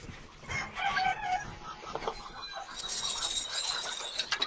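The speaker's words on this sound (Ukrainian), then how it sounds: "Зараз дамо курочкам їсти. Дамо овса." Domestic chickens clucking and calling busily while being fed oats, a dense chorus of close, moderately loud bird sounds with scattered clinks, no talking.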